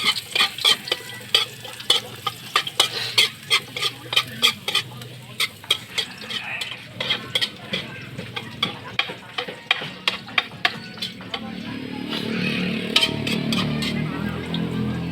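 Garlic fries in a pan while a spatula scrapes and clacks against the metal in quick, irregular strokes over a steady close sizzle, and the frying swells louder toward the end.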